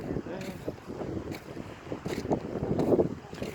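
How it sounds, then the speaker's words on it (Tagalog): Wind buffets the microphone at a seashore, with a low rumble of surf and air beneath a person talking nearby. "Nandito po ako sa tabing dagat."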